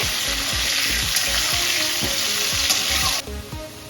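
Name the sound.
potatoes with salt stirred while frying in pan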